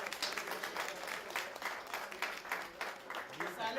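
Audience applause fills a conference hall, a steady patter of many hands clapping at moderate volume throughout, with no break.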